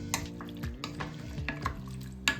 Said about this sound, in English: we're going to take what's left of our beef broth and we're just going to dump it right on top of everything. And we're just going to mix everything up